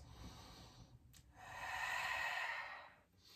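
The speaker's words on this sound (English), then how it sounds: "2 more deep breaths." A single slow, deep breath during a yoga practice, a soft inhale followed by a longer airy exhale, close and quiet with no talking.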